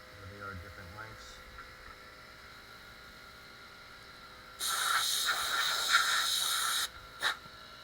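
An aerosol can sprays a steady, loud hiss for about two seconds during an iPad Air digitizer repair, then stops, followed by a brief second puff; quiet room tone comes before it.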